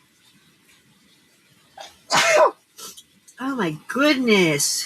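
A single sharp human sneeze indoors in a kitchen with cats around, followed by a voice reacting in speech.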